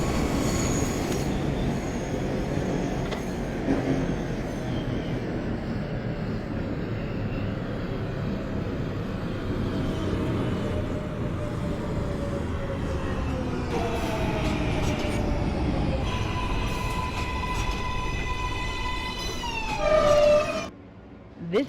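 An NYC Subway R143 train on the Z line, simulated in OpenBVE, rumbles steadily along the track with a rising motor whine and squealing wheel tones near the end, then slows with a brief high screech.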